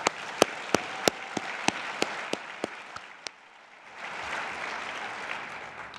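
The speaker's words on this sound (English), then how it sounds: "Let's give them all a big round of applause." A few sharp, separate claps ring out at an NHRA awards banquet for the champions, then fade before a fuller wash of crowd applause swells in.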